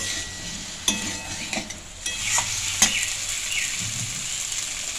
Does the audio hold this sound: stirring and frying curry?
yes